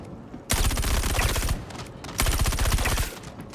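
Two long bursts of automatic gunfire in the space shooter game Star Citizen, each a loud rapid rattle of shots separated by a short pause.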